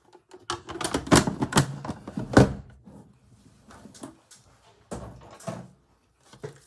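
Typewriter mechanism being worked on a craft table, bursts of clattering clacks and heavier thunks, loud at first, then sparser knocks after a pause.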